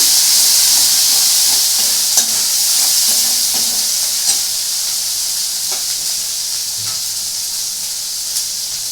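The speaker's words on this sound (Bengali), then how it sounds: "তারপরে দিয়ে দেবো স্বাদ মতো নুন এটা একটু ভালো করে কষছি" Mutton keema stir-frying with salt in a pan, giving a steady loud sizzle and hiss throughout with a few faint scrapes and clicks of stirring, and no voices.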